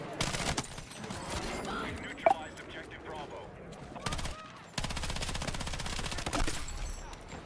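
SMG fire in Battlefield 6, long sustained automatic bursts of rapid shots, loud and close, broken by short pauses and mixed with other battle noise.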